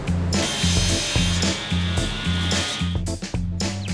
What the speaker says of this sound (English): Each one is marked out from a template and roughly cut out before a more accurate finish is achieved on the spindle moulder.